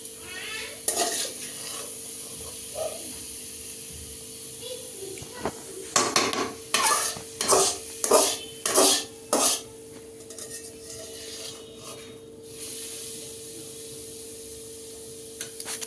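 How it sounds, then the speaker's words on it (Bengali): Cauliflower paratha frying in a pan, with clinking and scraping of a spatula against the pan in a brief rhythmic burst over a soft steady sizzle, with no talk. "হয়ে গেছে অলমোস্ট কমপ্লিট এটা ভাজা।"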